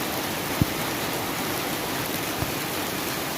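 Steady rain hiss in Yalta, Crimea, even and broadband throughout, with two faint drip-like taps, no one talking.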